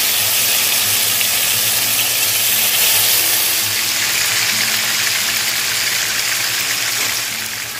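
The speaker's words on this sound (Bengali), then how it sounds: "এবার এই তেলটা গরম হয়ে গেলে এখানে একটা একটা করে আপনি মাটনের পিসগুলো দিয়ে দেবেন, দিয়ে ভালো ফ্রাই করে দেবেন।" Mutton pieces frying in hot oil for a Bengali rezala: a loud, continuous close-up hiss and sizzle filling the whole stretch, easing slightly at the end, with no talk.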